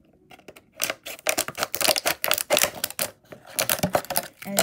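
Scissors snip through a soft plastic or rubber squeeze toy leg while making a homemade simple dimple fidget, a rapid run of close, dry clicking cuts in quick bursts.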